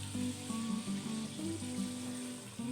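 Onion and green chili paste sizzles with chicken in a karahi for a creamy white chicken karahi, a steady close frying hiss running throughout with a low tonal hum beneath.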